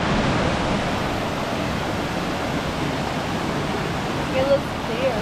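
Rushing water of Ladies Bath Falls on a hiking trail in Victoria, Australia, a steady broadband roar filling the scene, with a brief voice rising over it near the end.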